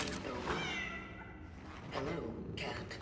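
A cat meows in the video game Cronos: The New Dawn, a few short, moderately loud mews set against steady game ambience, with a person talking over part of it.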